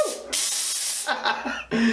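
Hot steam blasted from a steamer onto spider mite infestation during clean-up, loud close hissing sprays in several bursts with brief breaks between them.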